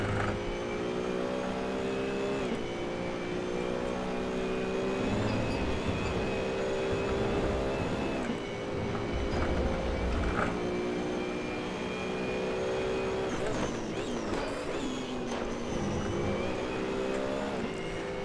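A race car engine in Assetto Corsa, a loud, close engine whine that rises and falls through gear changes and throttle lifts over the whole stretch.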